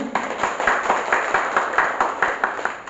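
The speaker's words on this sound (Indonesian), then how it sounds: "Tepuk tangan dulu." An audience claps in welcome at the opening of an invited-guest event, a moderate, steady patter of many hands that continues throughout.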